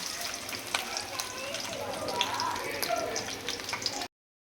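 Garlic, ginger, mustard seeds and urad dal fry in oil in a kadai, giving a close crackling sizzle with scattered pops and spits that stops abruptly near the end.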